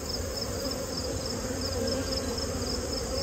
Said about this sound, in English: this hive is jam-packed with bees, so that is probably why they're wanting to swarm